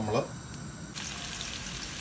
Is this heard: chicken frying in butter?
yes